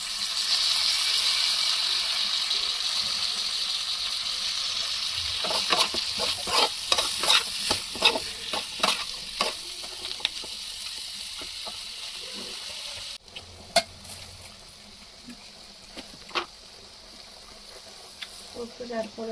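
A pan of village-style chicken fry with coriander and mint sizzles steadily while a spoon scrapes and clacks through it in a rapid run of stirs, then a quieter sizzle with occasional scrapes continues; a voice speaks faintly at times.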